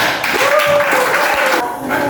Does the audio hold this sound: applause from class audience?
yes